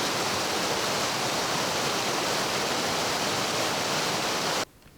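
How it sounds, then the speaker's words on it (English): A small mountain stream flowing nearby, giving a steady, dense rushing wash of water that fills the sound evenly before cutting off abruptly near the end. "as you can see by that little flowing river there"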